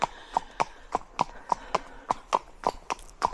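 Horse hooves clip-clop on a hard road at a steady walking pace, about a dozen crisp, evenly spaced hits close by, with no talking over them.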